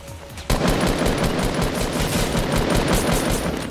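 Automatic turret machine-gun fire in Fortnite's food-fight mode, a loud, dense, continuous rattle of rapid shots that bursts in after a brief quiet start and keeps hammering steadily without pause.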